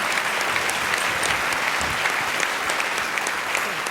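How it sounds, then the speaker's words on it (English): An audience at a Vietnamese variety gala applauds with loud, dense, continuous clapping that fills the whole stretch. "Deserve a nice round of applause, I think."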